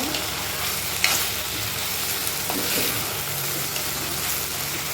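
Garlic and other ingredients fry in oil for an oil brinjal curry, a steady close sizzle broken by occasional scrapes and clacks of stirring.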